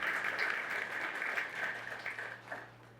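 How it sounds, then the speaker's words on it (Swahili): A seminar audience applauds Jesus, with sustained clapping filling the hall at steady loudness across the whole stretch and no speech over it. "Pigia Yesu makofi kabisa"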